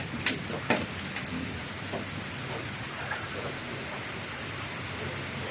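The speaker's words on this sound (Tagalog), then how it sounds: "walang tigil ang ulan" Steady rain falls with a constant soft hiss ahead of an approaching typhoon, a few louder drips or knocks standing out early on.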